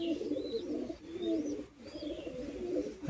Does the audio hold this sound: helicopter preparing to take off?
no